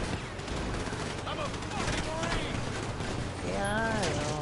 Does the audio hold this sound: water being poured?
no